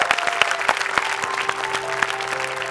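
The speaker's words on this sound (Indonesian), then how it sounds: "Tepuk tangan untuk Gia Yobi." Live audience at a stand-up comedy roast show clapping for a guest: dense applause with some sharp individual claps standing out, over a faint steady tonal hum, lasting a few seconds with no speech.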